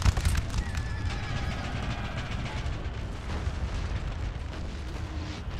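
A battalion line fires a musket volley in Napoleon: Total War, a dense rumbling roar of massed shots and battle noise that fills the whole moment with little letup.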